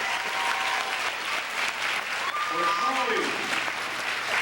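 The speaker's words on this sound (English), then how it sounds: "Let's give them a round of applause." Sustained applause from a school assembly audience honoring veterans, dense and steady throughout, with faint voices mixed into the crowd noise.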